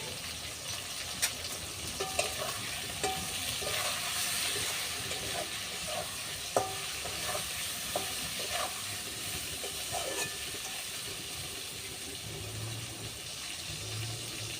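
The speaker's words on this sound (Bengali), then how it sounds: "বেগুন আর সিমগুলো তো ভাজা হয়ে গেছে" Eggplant and flat beans fry in a pan with a steady soft sizzle and hiss, broken by occasional light utensil clicks, with no one speaking.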